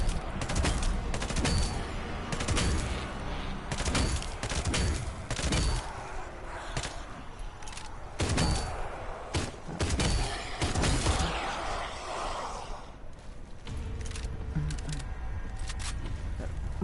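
Rapid gunfire from an unsuppressed weapon in a PvE online shooter game, with bursts and single shots repeating loudly and irregularly throughout, briefly thinning near the end.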